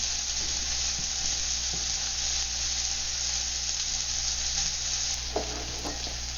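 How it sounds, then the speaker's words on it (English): Onions sizzle and fry steadily in a hot pan for a Chinese ketchup prawn dish, a dense continuous hiss with a few faint clicks of utensils near the end. "while the onions are cooking,"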